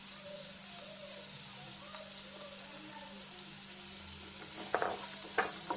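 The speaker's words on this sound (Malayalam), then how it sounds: "അപ്പം ഞാനിതിലേക്ക് കൂർക്ക ചേർത്ത് കൊടുക്കുകയാണ്." Chinese potatoes (koorka) tipped into a pan of softened onions for a Kerala chicken curry, giving a steady low sizzle with soft stirring scrapes and a couple of sharper clatters near the end.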